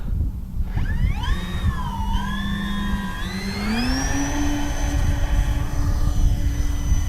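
Electric motors of an E-flite Beechcraft D-18 RC model airplane at takeoff, a loud whining tone rising in pitch and settling into a steady high drone over wind and rumble, with no talk.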